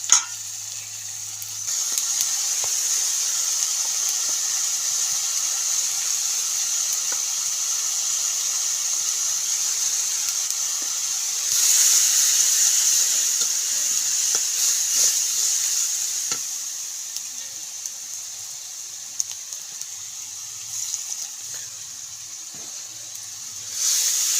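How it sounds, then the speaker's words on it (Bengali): Onions fry in a pan with a steady, continuous close sizzle and hiss, swelling slightly midway and holding for a long stretch with occasional soft clicks of stirring. "তো এখন আমি পেঁয়াজগুলি সুন্দর করে ভাইজা নেই।"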